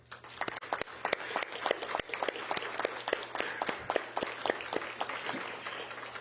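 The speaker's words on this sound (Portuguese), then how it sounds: "Eu gostaria de uma forte salva de palmas a Jesus." Applause from an audience at a solemn session in a municipal chamber, a moderate crowd clapping with distinct individual claps audible in a steady patter, fairly close, with no talk over it.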